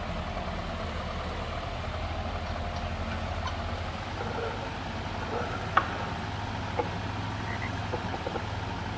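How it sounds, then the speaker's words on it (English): Frogs croak by a stream in the Farming Simulator 22 video game, with scattered distant calls over a steady low engine hum from a mower. "the frogs in the stream down there"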